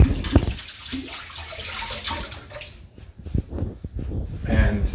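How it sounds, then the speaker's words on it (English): Tap water runs into a kitchen sink as hands are rinsed while making butternut squash soup, a steady broadband wash with splashy bursts, close by, ending with some clatter and movement. "I gotta rinse my hands."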